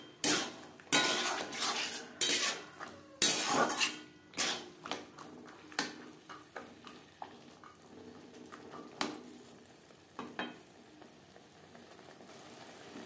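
Green peas go into a pan of potato curry (alur dum) and are stirred in, making a run of sharp spoon-on-pan clanks and scrapes that thin out and grow quieter over a low simmering bubble.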